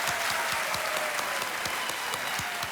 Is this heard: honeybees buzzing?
no